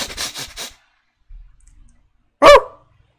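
A person imitates a dog barking with a single loud, sharp vocal bark, following a few short breathy sounds and a brief low rustle.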